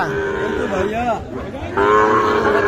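Sahiwal and Gir calves at a cattle market give a couple of drawn-out, wavering moos, close and fairly loud against a busy background murmur.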